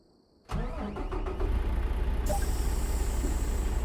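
Truck engine in American Truck Simulator turning over and starting, then settling into a steady, loud low rumble as it begins to drive.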